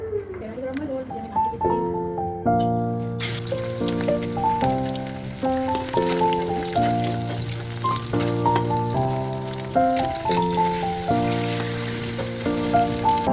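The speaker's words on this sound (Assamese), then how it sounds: "মই মাছ পিচ ফ্ৰাই কৰি লওঁ। মাছ ফ্ৰাই কৰিব লৈছোঁ।" Fish pieces coated with salt and turmeric fry in hot oil, a steady hissing sizzle running throughout beneath a loud, stepping melodic music track.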